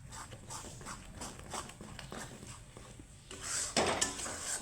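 A spoon scraping and knocking in a pot while semolina is stirred into milk for palm pitha, soft rhythmic clinks and scrapes at low volume, with a louder clatter near the end.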